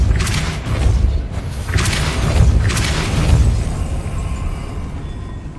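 A Depulso force spell in Hogwarts Legacy unleashes a series of heavy booming blasts, three deep rumbling thumps with whooshing bursts layered over a loud, continuous low roar.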